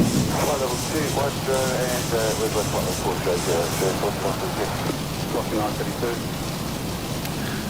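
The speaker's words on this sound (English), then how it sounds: "Now I see the rain." Rain in the X-Plane 12 flight simulator, a steady hiss of drops on the aircraft heard from the cockpit, continuous and fairly loud, with a radio voice and someone talking over it.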